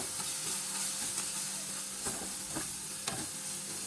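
Pasta ingredients with pepper and turmeric are stirred in a frying pan, a soft continuous sizzle broken by several light scrapes and taps of the utensil, close and quiet.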